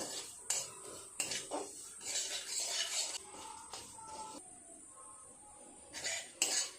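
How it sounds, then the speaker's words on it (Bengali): Semolina roasts in ghee with bay leaves while a spoon stirs it, making faint clinks and scrapes of utensil against the pot, with soft sizzling between the strokes and no talk. "সুজি ভালো করে নেড়ে চেড়ে সুজিটা লাল করে ভেজে নেব"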